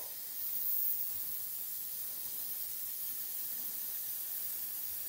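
Airbrush spraying paint onto an RC model helmet, a steady close hiss of fine compressed-air spray running unbroken and alone throughout.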